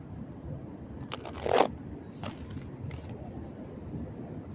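Tarot cards shuffled during an eclipse reading, giving a short crisp riffle of card edges near the middle, with a few lighter flicks after it against a quiet room.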